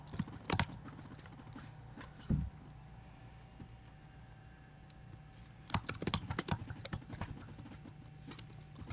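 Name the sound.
typing on a computer keyboard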